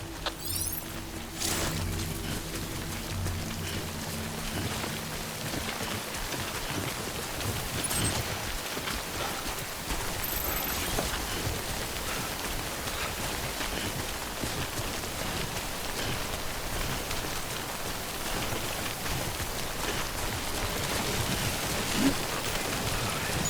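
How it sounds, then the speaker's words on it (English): Steady rainfall of timefall in the Death Stranding Director's Cut video game, a continuous dense patter on surfaces lasting throughout, with a few faint mechanical clicks and tones layered near the start and middle. "Don't stay out in the rain any longer than you have to."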